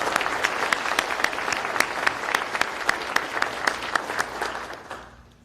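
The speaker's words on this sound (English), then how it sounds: "let's give them a round of applause too, please" Clapping fills an awards ceremony hall as the audience applauds, a steady wash of many hands with occasional louder claps, fading out over the last second.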